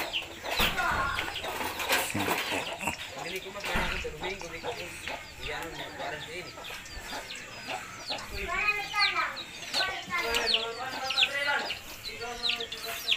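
A chicken clucks in bursts of rapid calls, strongest near the end, mixed with people talking and other household noise.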